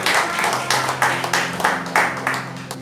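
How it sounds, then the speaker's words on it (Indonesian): A church congregation at a Sunday sermon clapping in unison, several firm, evenly spaced rhythmic claps from many hands, loud and close, with a faint background hum. "Yang mengerti sampai di sini tepuk tangan bagi Allah kita."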